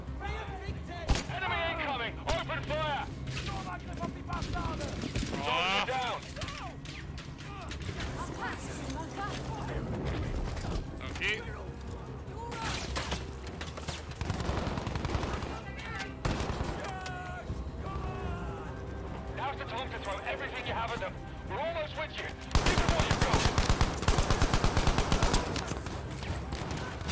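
Battlefield V combat: dense, loud gunfire and machine-gun bursts with distant explosions running throughout, while voices shout and talk over the battle.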